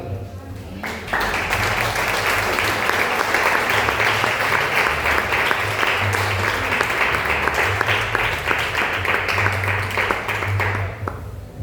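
A church congregation breaks into loud, sustained applause that begins abruptly and holds steady for about ten seconds before fading, with a low hum of voices underneath.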